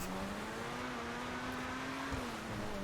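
A high-revving sports car engine in GTA Online drones steadily at close range, its pitch holding, then rising slightly, continuous throughout.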